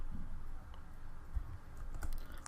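Computer keyboard keys tapped in short, light bursts while code is entered, with soft irregular clicks running through the clip and a few sharper strokes near the end, no talk.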